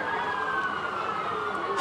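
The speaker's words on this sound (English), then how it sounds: "First up is the Guttenberg ambulance." Guttenberg ambulance siren sounding during the Stars & Stripes Day parade, a steady wailing tone held loud and close throughout, with crowd noise underneath.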